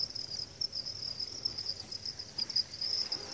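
Breeding field crickets chirp in a steady, high-pitched pulsing trill, fairly faint and close, with no other sounds.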